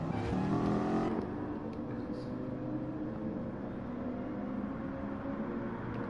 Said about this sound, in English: when you hear the sound of that car, you hear the sound of the